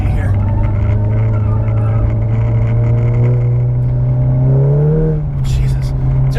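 A 400 hp Stage 3 tuned VW Mk7 GTI accelerates out of a track hairpin in third gear, its engine note climbing loudly and steadily before a brief gear-change dip, heard close from inside the car.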